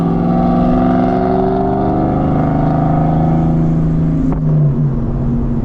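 A Ford Mustang with a Coyote engine swap and off-road H-pipe exhaust idles close by, a steady loud burbling drone with a brief blip of revs near the end.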